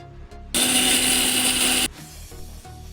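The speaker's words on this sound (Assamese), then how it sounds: "তিলখিনিৰ লগত একেবাৰে জ্বলাকেইটা আৰু নহৰুকেইটাও পিচি লওঁ।" A kitchen grinder whirs loudly for just over a second, grinding sesame seeds with chilies and garlic, then stops abruptly, followed by faint rattling and handling sounds.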